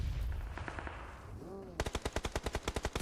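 Rapid automatic gunfire sprays in a PUBG Mobile esports match, about a dozen sharp evenly spaced shots in a fast burst after quieter game ambience.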